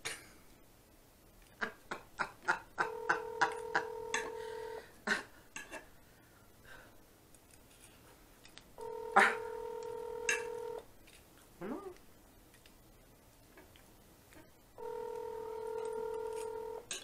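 A phone dials out with a quick series of keypad tones, then a repeating ringback tone sounds in long spaced bursts as the call rings unanswered, with faint clinks of dishes between.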